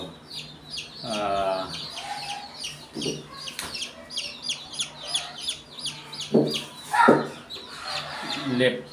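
White Kelso chicks, a batch of about twenty-five backyard-bred birds, cheep in rapid overlapping high peeps nearby, with bursts of human talk mixed in.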